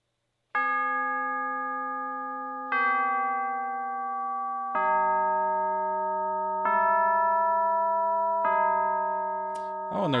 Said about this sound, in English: Something I always have to use, which is the tubular bells.